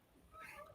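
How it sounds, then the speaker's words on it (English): A cat gives a single short, faint meow that rises and falls, set against quiet room sound. "Oh, there was a cat."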